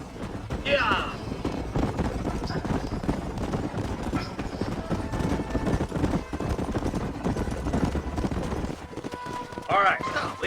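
Hooves clatter in a rapid, continuous rhythm as horses gallop in Red Dead Redemption, mixed with voices speaking and a snort or two, fairly close.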